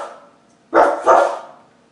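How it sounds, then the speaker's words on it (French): A dog gives two quick, loud barks close by, one right after the other, with quiet before and after. "Peux-tu me faire entendre le son d'un chien?"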